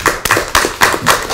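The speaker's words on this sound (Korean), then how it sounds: "격려 박수 한번 보내주시죠." Audience at a party caucus meeting claps in encouragement, a short burst of close, loud, rhythmic hand claps with no talking.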